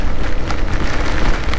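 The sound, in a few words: heavy rain during a motorbike ride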